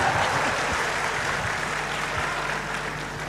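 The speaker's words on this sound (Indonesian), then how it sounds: "kita berikan tepuk tangan" An audience at an Indonesian political gathering applauds, producing a dense, steady wash of clapping that holds at even loudness throughout, with a faint murmur of voices beneath.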